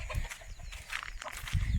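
Chickens in a village yard give scattered soft clucks over low rumbling background noise, with no one talking.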